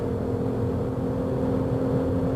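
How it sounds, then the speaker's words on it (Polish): Alfa Romeo 156 accelerating on a motorway in Portugal, a steady engine drone with a sustained hum, heard from inside the car with no talk. "Zobaczmy jak ten samochód jedzie na autostradzie. Zaczynamy, zaczynamy przyspieszać."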